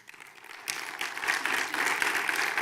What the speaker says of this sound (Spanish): darle un aplauso bien lindo al Señor